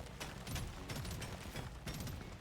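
Rapid automatic gunfire shooting aliens in Deep Rock Galactic Survivor, a quiet, continuous rattle of shots with a few sharper bursts, fairly faint and steady.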